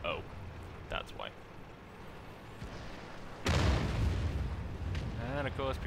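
Artillery fire in a tank battle game: a sudden loud, heavy boom lands mid-clip and rumbles on, with quieter game sounds and voices before and after it.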